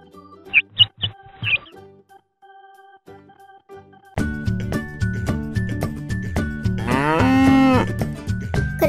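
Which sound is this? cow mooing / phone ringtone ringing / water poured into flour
cow mooing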